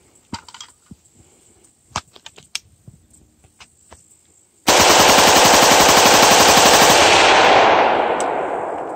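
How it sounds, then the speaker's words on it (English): A semi-automatic rifle without a bump stock fires in a long, very rapid unbroken string of loud shots lasting about three seconds, preceded by scattered faint clicks and taps, then fading as echoes die away. "semi-auto rifles really don't need a bump fire stock to shoot fast"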